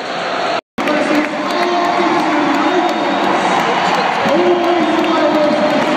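Rugby league crowd cheering and chanting in a stadium end as home Widnes fans celebrate a win at Magic Weekend in Newcastle, a loud continuous roar with rising voices, broken by a brief gap near the start.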